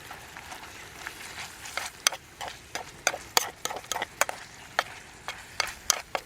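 Ketchup simmers in a pan on a trail cookout, giving irregular small bubbling pops and ticks over a faint steady hiss, close and quiet, with no voices.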